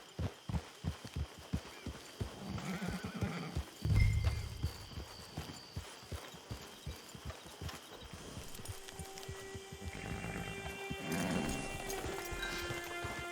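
A horse in Red Dead Redemption 2 clip-clops along at a walk, its hooves thudding in a steady rhythm near a camp, with a brief louder snort or whinny partway through and faint ambient tones behind.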